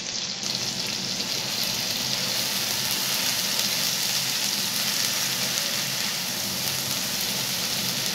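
Onion paste fries in mustard oil with a steady, close sizzle and crackle, like dense rain, that keeps up without a break and is heard alone.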